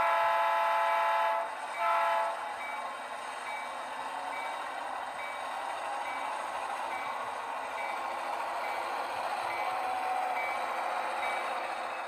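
A model train rolls under a Christmas tree on a DCC-EX layout, giving a steady close rumble and hum with a brief tonal horn-like sound near the start, and no talking.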